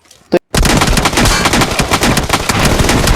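Rapid gunfire in the mobile battle royale game BGMI (PUBG), a dense, loud burst of overlapping shots after a brief single crack and a moment of silence, continuing almost without pause.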